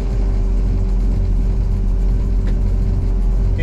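A 1972 Plymouth Cuda engine runs close by at a steady idle, a loud, constant low rumble with no voices over it.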